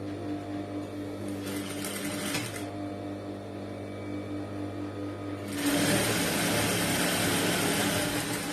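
A sewing machine stitching a blouse hums steadily with a low motor drone, then jumps to a louder, faster whirring run for the final few seconds, with no talk.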